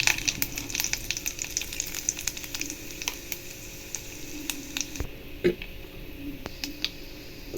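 Urad dal and dried red chillies sizzle and fry steadily in hot oil for a chutney tempering, a continuous close crackle with occasional stirring clicks and no talk.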